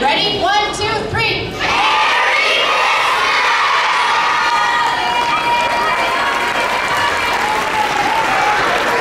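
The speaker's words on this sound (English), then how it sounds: "let's all yell Merry Christmas to everybody" At the end of a school show, a crowd of children shouts together in a loud burst. Sustained applause and cheering from the gathered audience follow and fill the rest of the clip.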